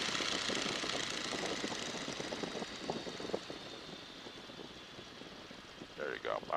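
Engine of a Boeing N2S-3 Stearman biplane throttled back to idle on approach, a steady low drone and wind rush from inside the open cockpit, with a person talking over it near the end.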